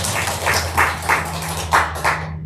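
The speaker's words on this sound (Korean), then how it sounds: "박수로 환영합니다." A church congregation at a Sunday service clapping to welcome a guest speaker, a modest, somewhat ragged round of hand claps with light rhythmic surges over a low background hum, fading toward the end.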